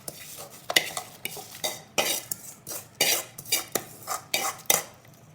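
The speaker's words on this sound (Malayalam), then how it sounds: "ഇതിലോട്ട് നമ്മുടെ വറവ് ചേർക്കാം" A spoon scrapes and clinks against a pot as tempering is added to a thick raw green tomato curry and stirred in, with repeated sharp metallic knocks and scrapes in an irregular rhythm, close and fairly loud, with no voices.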